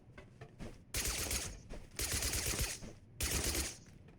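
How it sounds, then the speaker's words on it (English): A burst-fire gun in Totally Accurate Battlegrounds fires three separate loud, crackling bursts about a second apart, each a short rapid string of shots, with quieter game ambience between them. "They've got some kind of burst fire gun"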